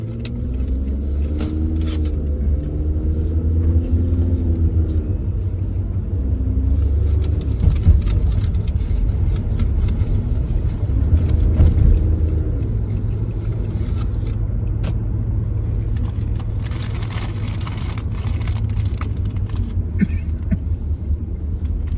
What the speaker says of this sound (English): Where's all these cars coming from?